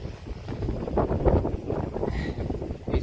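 Gusty wind buffets a microphone beside a tent pitched on an open moorland hillside in rain, a rough, fluctuating low rumble with no voices.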